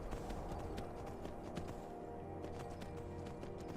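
Hoofbeats of a ridden horse in the Skyrim video game, a steady, rapid clip-clop rhythm running throughout at moderate distance, fairly faint.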